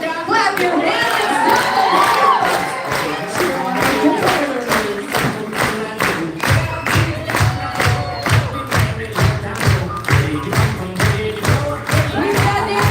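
Crowd at an outdoor lumberjack show in Alaska, loud and near, with shouting and cheering at first, then settling into steady rhythmic unison clapping.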